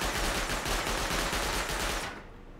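A Rust video game auto turret sprays sustained rapid automatic fire at the player, loud and close, a steady stream of shots that cuts off abruptly near the end.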